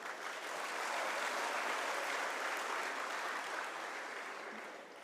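Crowd applause, a steady wash of many hands clapping that swells slightly and then fades a little toward the end, moderately distant with no speech over it.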